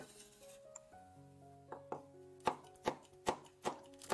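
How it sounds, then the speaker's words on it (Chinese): A knife chops ginger in a row of crisp, close strikes that start sparse and then quicken into a steady rhythm toward the end, with no voice. "生姜10克，切碎备用。"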